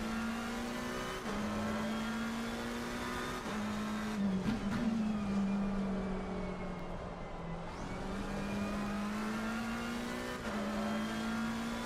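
A race car engine in a sim racing game drones steadily at high revs for about twelve seconds, the pitch shifting slightly through gear changes and corners, with no talk over it.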